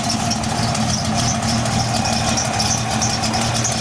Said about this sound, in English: It actually has a nice idle to it.